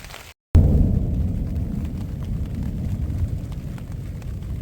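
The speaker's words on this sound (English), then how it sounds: "This is some of the loudest thunder I've heard in my life." Thunder rolls over a mountain storm in the Canadian backcountry: after a brief gap, a loud, sustained low rumble fills the remainder, heavy and continuous like thunder directly overhead, with no talking.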